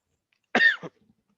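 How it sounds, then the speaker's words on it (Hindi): A single short cough, close and fairly loud, rings out in a quiet classroom during a biology lesson, followed by silence. "होएगी खांसी"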